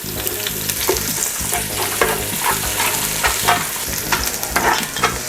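Onion frying in melted butter with garlic, a continuous close bubbling sizzle with repeated scraping and knocking of a utensil stirring the pan, steady and fairly loud.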